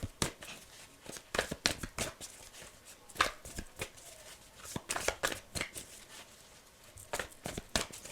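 Quick bursts of tarot cards riffling and slapping together, irregular clusters of crisp papery snaps close by, with short pauses between shuffles.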